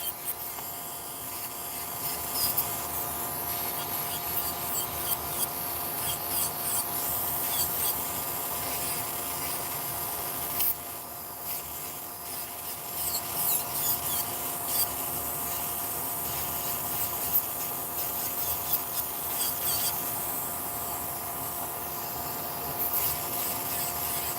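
A steady, high-pitched electric nail drill whirs and grinds continuously, removing gel nail extensions, with a gritty filing texture and small fluctuations as it works against the nail.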